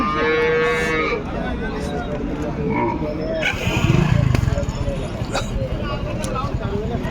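Punganur bulls moo nearby, long low calls repeating against an outdoor background, with people talking and a passing engine.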